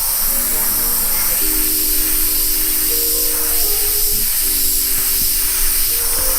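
Airbrush spraying paint onto a T-shirt for graffiti-style art, a steady loud hiss of compressed air throughout, with faint tonal hum and clicks underneath.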